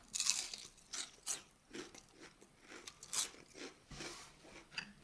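Cooked winkles crunched between the teeth, with repeated crisp bites and chewing at an irregular pace, close up and fairly quiet with no talking.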